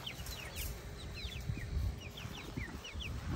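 Free-range chickens give faint, scattered high chirps and clucks over a rumbling outdoor background.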